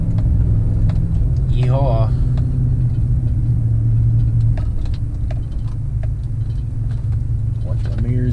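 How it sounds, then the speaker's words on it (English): Engine of a 1958 Dodge Royal towing a trailer up a tight, steep mountain road on Atlas Peak, a steady loud low rumble running throughout, with someone talking and whooping over it. "Definitely the tightest road and steepest road I've ever driven a trailer on, I think."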